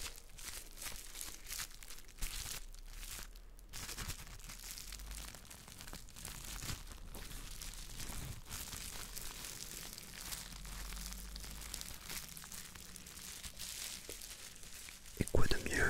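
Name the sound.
crinkling bubble wrap ASMR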